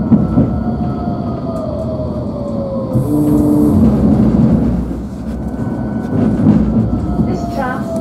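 A Nottingham Express Transit tram bound for Hucknall rumbles along its rails with a steady low roar, wheels squealing and whining in drawn-out tones; a brief chime sounds partway through.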